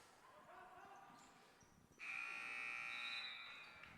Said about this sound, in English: that's the buzzer after 3 quarters of play